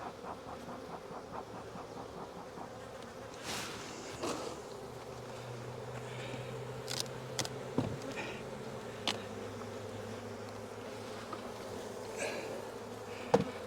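Honeybees buzz in a soft, continuous drone during a nuc hive inspection, with occasional sharp clicks and knocks from hive equipment.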